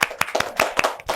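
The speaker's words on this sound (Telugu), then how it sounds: "మనం అందరం కూడా ఒకసారి క్లాప్స్ కొట్టుకుందాం" A group of schoolchildren at an Independence Day event claps in a short burst of sharp, irregular hand claps, close and fairly loud.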